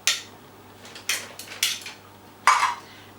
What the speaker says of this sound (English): Now I don't need those spoons anymore, so I'll scrape the mixture off those.